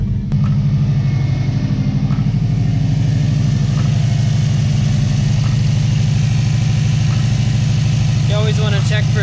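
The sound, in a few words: Subaru Baja engine running after start, VF48 turbo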